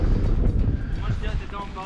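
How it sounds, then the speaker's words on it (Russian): Wind rising in a winter forest in the Crimean mountains, a low, blustery roar buffeting close by with some rumble across the mic, continuous for a couple of seconds. "Подымается ветер, да."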